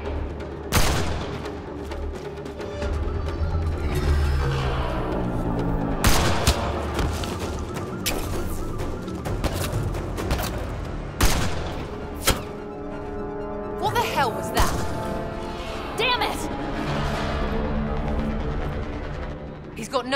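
Gunfire in the Mass Effect Andromeda video game: sharp bursts of shots and impacts crack through a firefight, repeated and irregular, with a voice shouting over the battle and game music underneath.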